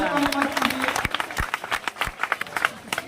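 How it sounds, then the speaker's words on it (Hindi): Students in a classroom break into scattered clapping, individual sharp claps standing out over a steady murmur of young voices and chatter. "तालियां बजा भाई, तालियां"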